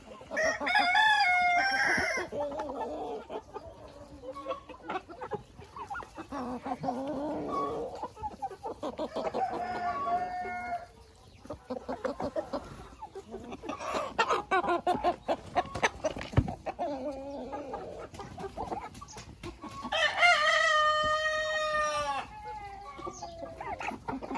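A rooster crows loudly near the start and again later, while hens cluck and chatter continuously around it in a busy farmyard.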